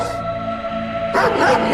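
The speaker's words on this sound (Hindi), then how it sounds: "जोर जोर से भौंकने लगता है" A dog barks loudly in a short burst near the end, after a steady tonal background hum.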